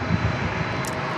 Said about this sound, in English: Oh, I hear some 767 action.